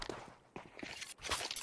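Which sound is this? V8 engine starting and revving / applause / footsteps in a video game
footsteps in a video game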